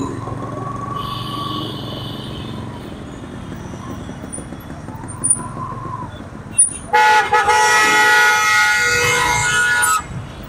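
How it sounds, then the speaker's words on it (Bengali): Car horns in a traffic jam in front of the High Court: a long, continuous blare of several horns toward the end, with scattered short toots before it over a low traffic rumble. "এখানে ছোটখাটো একটা যানজট পেয়ে গেলাম।"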